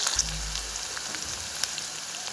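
Onions fry in oil with a steady, faint sizzle and soft crackling pops, close and alone, under a brief low hum at the start.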